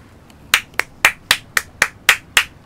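A hammer striking rocks in the video game Getting Over It with Bennett Foddy: eight sharp, crisp knocks at a steady, fairly quick rhythm, loud and close with no talking.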